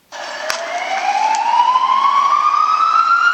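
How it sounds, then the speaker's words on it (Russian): A police siren wails steadily, its pitch gliding slowly upward, loud and close with no other sounds. "Тоже звук сирены. Опять полиция."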